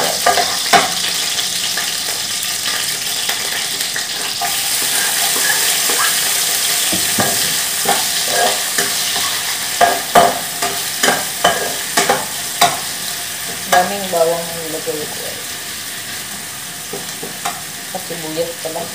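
Garlic fries in a pan over a wood fire outdoors, a loud continuous sizzle that turns into a run of quick, rhythmic stirring scrapes toward the end, close up and with no talk.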